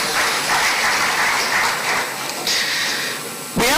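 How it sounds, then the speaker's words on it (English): An audience at an inauguration ceremony claps for an honored guest: a dense, steady wash of applause that swells and dips briefly before cutting off near the end. "Honorable Ikenna Eleziana, let's give him a big round of applause."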